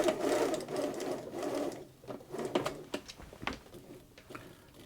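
A Bernina 930 Record electronic sewing machine runs in loud bursts of rapid mechanical chatter at close range, then sputters into softer, uneven clicks and taps, with no voices.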